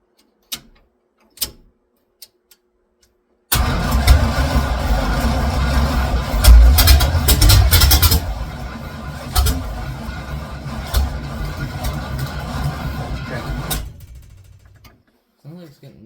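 A 1976 Chevy squarebody engine cranks with ether in the intake and a big carburetor, a few faint clicks first, then a long loud churning run that fades and stops.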